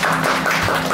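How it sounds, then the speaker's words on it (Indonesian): A church congregation clapping together during a Sunday service, a steady dense wash of applause filling the whole second. "Berikan tepuk tangan dulu."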